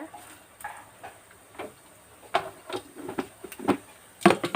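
Mustard seeds, urad dal and cumin frying in hot oil in a pan, irregular crackles and pops that grow busier and louder toward the end, with a few utensil clinks and no talk.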